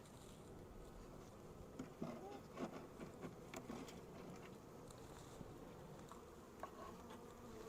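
Honey bees buzzing around a hive while being fed pollen, a faint continuous hum with occasional louder passes of individual bees, quiet and close.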